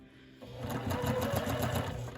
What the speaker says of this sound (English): And then run that through.